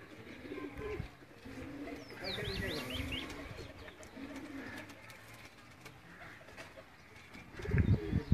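Dubai-breed pigeons coo softly in a loft amid chirps and faint bird calls, with low background rumble and a louder handling noise near the end.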